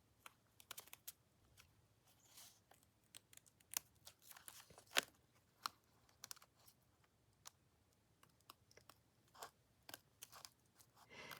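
Faint, scattered snips and crinkles of small scissors cutting paper, irregular clicks spread over a quiet background.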